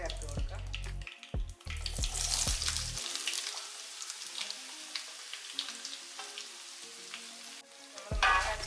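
Chopped mango tossed into a hot pan with curry leaves, sizzling and crackling steadily, with a few sharp stirring knocks near the start and end.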